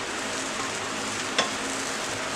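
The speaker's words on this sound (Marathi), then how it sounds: "1 मिनिट परतून घेऊया।" Bread masala sautés in a pan with a soft, even sizzle throughout and a single brief scrape of the spatula midway; no one speaks.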